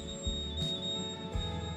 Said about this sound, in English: That is the sound of the microwave saying we've got gratin ready.